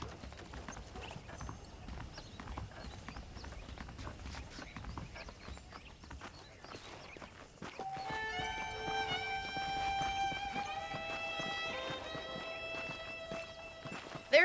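Horse hooves clip-clop at a steady walking pace in the Western game Red Dead Redemption, close and continuous, with music rising in from about the eighth second.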